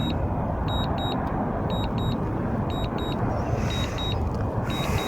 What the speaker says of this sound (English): The beeping's annoying